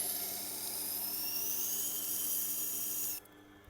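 A knife is sharpened on a Tormek SG grinding wheel, producing a steady, high-pitched grinding whine that stops abruptly near the end.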